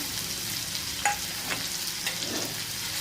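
Finely chopped onions frying in oil for a Maharashtrian egg masala make a soft, even sizzle, with a brief clink of a spoon and a few scraping stirs, heard alone.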